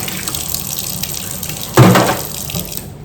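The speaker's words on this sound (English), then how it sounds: "We're still gonna wash this pan though." A pan washed under a running kitchen tap: a steady flow of water with a louder splash midway as the pan meets the stream, then a fading rush; no speech.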